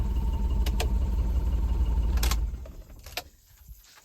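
Car being shut and locked at a free campsite in Himachal: a low engine rumble runs and then cuts out, with a few sharp clicks and clunks from the doors and lock near the microphone.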